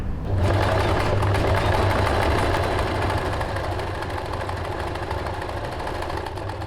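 A sewing machine stitches a buttonhole on a blouse, running a steady, continuous mechanical whir with a low hum throughout, close and fairly loud, with no talking.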